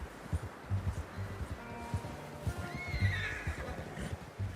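A horse in the video game Red Dead Redemption 2 whinnies loudly near the middle, its high, wavering call rising over soft thuds and shuffling hoof sounds.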